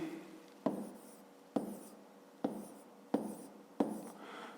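A pen writing out a math solution on paper, five distinct scratchy strokes at a steady rhythm, close and quiet, with no voice.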